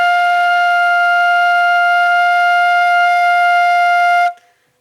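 A flute holds a single sustained F, a steady, clear, bright tone for about four seconds, alone with no talking, before it cuts off cleanly.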